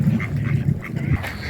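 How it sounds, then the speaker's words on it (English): Ducks near a broad in the Norfolk Broads, quacking loudly and close in a quick run of low, nasal calls. "Those ducks were fame hungry."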